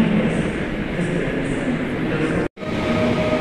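Polish ED250 Pendolino electric train passing through Kraków: a steady, loud broadband rush of rolling stock that drops out abruptly for a split second before resuming, with no talk over it.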